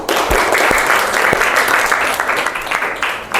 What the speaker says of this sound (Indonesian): Selanjutnya beri tepuk tangan untuk teman kalian.